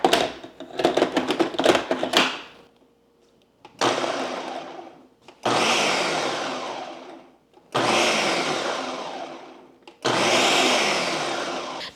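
Blender pulsing sun-dried tomatoes in a kitchen: a few short rattling bursts, then four longer loud whirring pulses separated by brief silences, close and with no talk.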